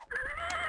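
A horse neighs from a horse spell in Garry's Mod: one clear, fairly loud whinny that rises and wavers for under a second, with a faint clip-clop underneath.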